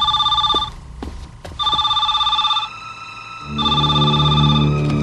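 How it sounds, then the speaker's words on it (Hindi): An electronic telephone ringtone trills in repeated bursts with short gaps, loud and close, ending in a longer continuous ring. "नहाते वक्त ही फोन आता है।"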